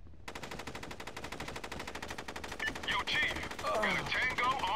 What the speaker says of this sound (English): just like that, we're under fire, so fire at will